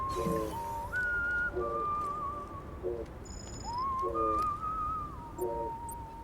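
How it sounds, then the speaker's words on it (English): Video game character in Death Stranding whistling a short tune while sitting at a scenic hot spring, clear sliding and warbling notes in several phrases over a steady low ambient rumble of the game world. "you can get him to whistle"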